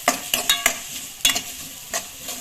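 Onions fry in hot oil for egg chilli, a steady sizzle broken by several quick stirring scrapes and clinks, close and fairly loud.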